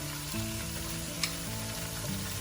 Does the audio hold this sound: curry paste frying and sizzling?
yes